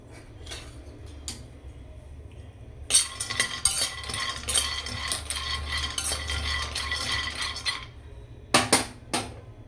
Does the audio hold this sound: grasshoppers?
no